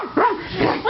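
A dog gives a few short, close yips and barks in quick succession, sounding agitated, with no talk over it.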